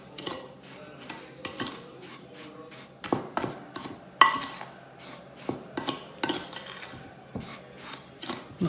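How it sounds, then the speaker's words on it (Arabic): Sugar, ground ginger, coffee, cinnamon and ground orange peel being stirred together for a body scrub, giving a string of scraping, clinking strokes in an uneven rhythm, close and moderately loud with no talk. "أوكي هلأ بدنا نخلط كل مكوناتنا مع بعضها."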